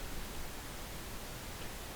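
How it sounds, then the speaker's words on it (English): Steady broadband pink noise test signal played for level calibration in a studio, a constant even hiss spread across the whole range, loud and unchanging for its full length with no talk. "So when I play my pink noise"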